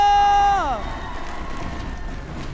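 Supporters fill the MPL Arena at a Mobile Legends esports match between Alter Ego and RRQ, a steady crowd roar and cheering rising as a loud tone fades out, sustained to the end.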